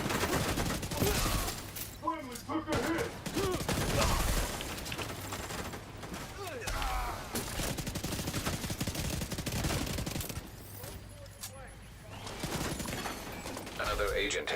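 Rapid bursts of gunfire and heavy shooting in a video game shootout, continuous and loud throughout, with a player talking over the clatter.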